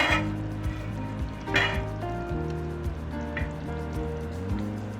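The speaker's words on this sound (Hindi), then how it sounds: "चम्मच चला के चेक करें" A spoon stirs mutton nihari in a pot, giving soft wet scraping and a gentle bubbling sizzle under a steady tonal background bed, with brief clinks at the pot.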